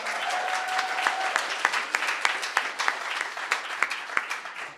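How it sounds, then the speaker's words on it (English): Audience at a poetry recitation competition breaks into applause, many hands clapping in a full, close burst that carries on steadily, with a faint voice briefly audible early on. "I appreciate getting to the end of my sentence before the applause started"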